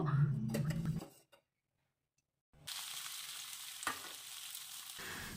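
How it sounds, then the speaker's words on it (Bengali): About two ladles of oil go into a hot kadai for frying vegetables and set off a steady, close, broadband sizzle that continues after a short silence. A voice speaks briefly before it. "এবার আমি দেখো কড়াইতে 2 হাতার মতো তেল দিয়ে নেব।"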